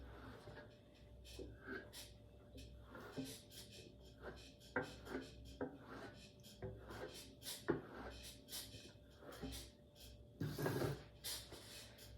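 A metal trowel burnishes Venetian plaster on a wall, quiet scraping and creaking strokes repeating unevenly at close range, with a brief louder rasping pass near the end.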